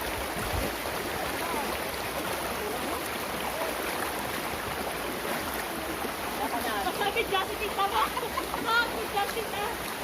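River in Sta. Cruz, Murcia, Negros Occidental flowing along a trail, a constant rushing hiss of water with occasional splashes, heard under people talking.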